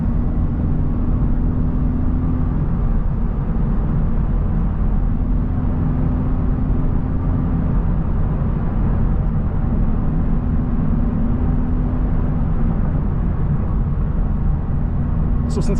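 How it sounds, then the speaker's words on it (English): Honda Civic Type R FL5 engine idling as it warms up before a track day at G2 Motorsports Park, a steady low rumble that stays even and continuous throughout. "Let the car warm up a little bit, and then I'll get on it."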